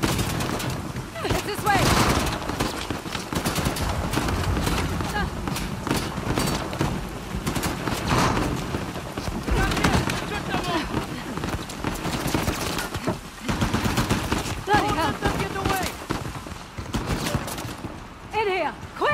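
Gunfire in Uncharted: The Lost Legacy, dense bursts and rapid volleys of shots cracking close and loud throughout, with a few voices shouting over the fighting.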